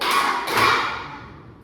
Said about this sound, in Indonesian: Tepuk nyamuk 2 kali.